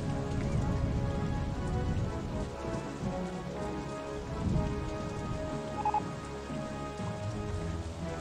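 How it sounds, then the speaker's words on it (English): Rain falls steadily throughout an OpenRCT2 thunderstorm, a dense, even patter at moderate loudness with a low rumble underneath, no voices heard. "Ooh, rain! Rain! That's a thunderstorm."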